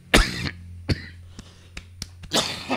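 A run of sharp coughs from a persistent month-long cough, one strong burst, then several short ones, ending in another heavy coughing fit, close and loud.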